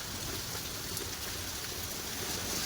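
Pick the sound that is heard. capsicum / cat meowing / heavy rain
heavy rain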